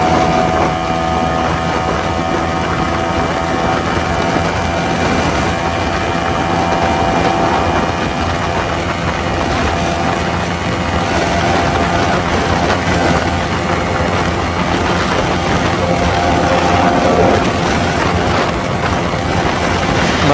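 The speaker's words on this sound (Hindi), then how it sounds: "ड्रैग रेस देख सकते हो क्या ही बेहतरीन हो रहा है" Yamaha R15 V4 and R15 V3 motorcycles run a top-end drag race at high speed, their engines a sustained, high-revving whine buried in heavy wind roar, with no talking.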